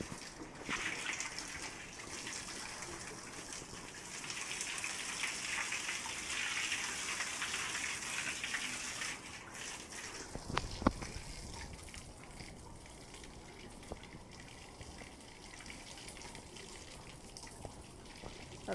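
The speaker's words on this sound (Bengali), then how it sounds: "এই রুমটাতে পানি দিতেছি" Water pours and splashes across a room's floor to wet it, a continuous gushing spatter for about ten seconds, then fading to softer trickles and a few scattered knocks.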